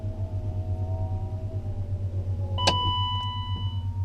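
Electric power window on a BMW E31 840Ci EV conversion, heard as a steady motor whine that stops with a brief thunk, over a low constant hum inside the car.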